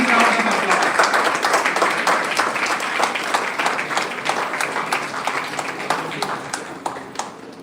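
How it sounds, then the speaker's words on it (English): Audience applause at a Berhampur University stage event as a guest is invited up, dense clapping with sharp individual claps standing out, steady and fairly loud, slowly thinning toward the end. "A big round of applause."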